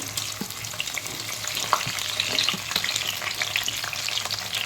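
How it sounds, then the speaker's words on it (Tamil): Whole onions sauté in well-heated oil for a kuzhambu, a loud, continuous close-up sizzle broken by crackles and stirring scrapes. "முதல்ல வெங்காயம் வதக்கிக்கலாம் எண்ணெய் நல்லா காஞ்சிருச்சு வெங்காயத்தை இந்த மாதிரி முழுசு முழுசாக போடுங்க"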